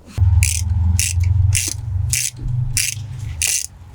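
A ratchet fitted with an H6 spline socket undoes the brake caliper slide bolts on a MK2 Volkswagen Golf, giving loud, close bursts of rapid clicking that repeat about six times in a steady back-and-forth rhythm.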